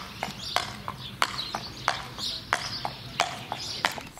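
A horse walks outdoors under a rider, its hooves striking in a steady, close clip-clop rhythm with faint background noise.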